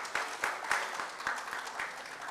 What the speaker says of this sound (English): kindly come on the stage in the round of applause.